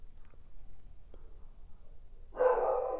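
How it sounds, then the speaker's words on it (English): A single bark from a dog outdoors lands near the end, following a quiet stretch that holds only a couple of faint knocks. "there's another dog outside barking"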